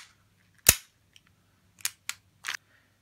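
A WE M712 gas airsoft pistol fires on full auto, giving sharp, dry cracks: one loud shot, then a few quicker pops spread over the next two seconds, close and without talk.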